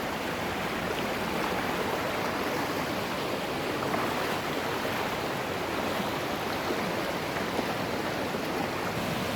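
The Luaha Ndroi waterfall in Nias Utara roars as a steady, loud, unbroken wash of falling water with no voices over it.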